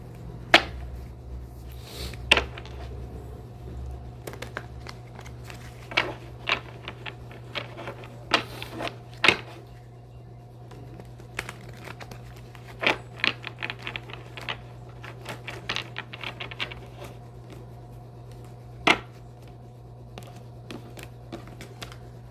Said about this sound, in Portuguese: Vou tirar aqui 3 cartas do tarô das bruxas.